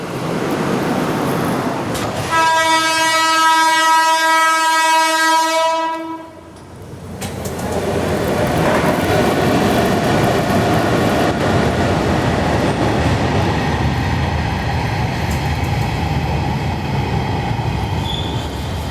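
The 12767 Hazur Sahib Nanded Santragachi SF Express sounds a loud, long two-tone horn, then rumbles past with steady clattering wheels and rushing rail noise that carries on to the end.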